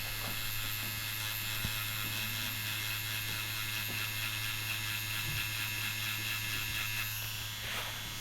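Tattoo machine running steadily while shading a tiger half sleeve, a constant electric buzz and hum with faint mechanical ticking throughout, close and unbroken.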